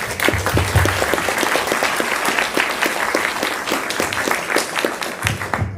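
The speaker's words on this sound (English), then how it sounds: "So please give yourselves another round of applause." A breakfast audience at a Putnam County government volunteer recognition event in New York bursts into steady applause, dense clapping filling the room from start to finish with no talk over it.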